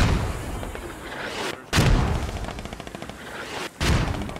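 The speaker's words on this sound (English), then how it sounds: "Another volley of mortars, about 2 minutes behind their effectiveness." Mortar volley landing in the video game Squad: two heavy, booming blasts a couple of seconds apart over a continuous roar of battlefield noise.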